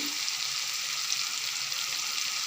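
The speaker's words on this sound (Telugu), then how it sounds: "పచ్చి వాసన పోయేదాకా కొంచెం వేపి" Mutton frying with spices in a pan, a steady close-up sizzle with a bright crackling hiss that holds constant throughout, with no talking over it.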